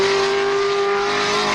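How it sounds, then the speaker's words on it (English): Race cars, including a red Ferrari 512S and a Porsche, roar together at the start of the 1970 Sebring road race, a loud, sustained engine drone close by with a steady pitch. "Mario Andretti in Ferrari number 19 leads the field as the race gets underway"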